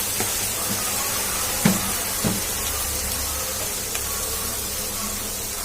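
Onions and tomatoes sautéing with salt in a pan for chicken gravy give a steady soft sizzle and hiss throughout, with a few faint clicks of stirring near the middle.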